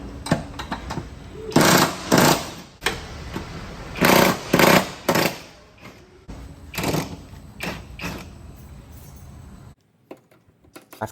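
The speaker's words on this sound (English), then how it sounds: "After breaking all 4 of the big main subframe bolts loose" An impact wrench breaks loose the large main subframe bolts on a BMW E9x. Several loud, rattling bursts of hammering are separated by short pauses, and the clip ends in near silence.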